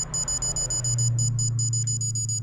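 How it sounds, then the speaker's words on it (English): A digital torque wrench beeps steadily, evenly spaced high chirps repeating over a low hum, close and clear, the slow beep signalling it is nearing the target torque. "Slow beep means you're getting close."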